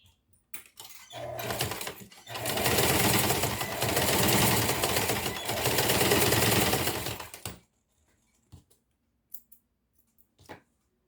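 A sewing machine stitches the lining of a school pencil case, running steadily and loudly for about seven seconds before stopping, followed by a few faint handling clicks.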